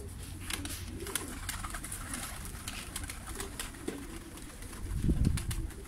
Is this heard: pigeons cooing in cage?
yes